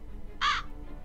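A raven caws once in the video game GTA, a single loud, harsh call standing out over a low ambient game background.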